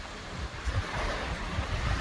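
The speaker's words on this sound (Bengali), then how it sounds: "গোটা জায়গাটাই ছোট ছোট ঢেউতে ভরে আছে।" Small waves lap steadily on open water outdoors, a soft continuous wash with low rumbling swells and some wind noise against the microphone, and no voices.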